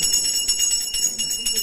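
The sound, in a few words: bells ringing beside a Diwali rangoli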